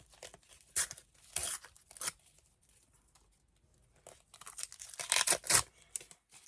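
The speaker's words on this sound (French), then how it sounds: "on continue à ouvrir mes petites pochettes" Panini Disney sticker packets tear open in short crisp rips, with crinkling paper between them, in two clusters of three or four bursts separated by a quiet pause.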